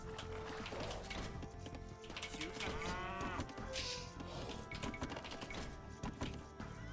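Cows mooing in the Age of Empires II video game, several low calls over steady game sounds and clicks, moderately loud.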